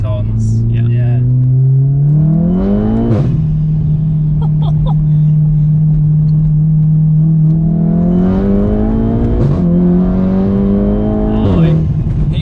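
A Stage 2+ Golf R with bolt-on parts and a safety map accelerates hard through the gears. The loud engine note climbs, drops at each shift, then climbs again, close and droning with no pause.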